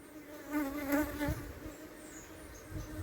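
Honey bees buzz around an opened hive at the brood nest: a dense, steady, close insect drone that swells briefly and then settles, with no voices.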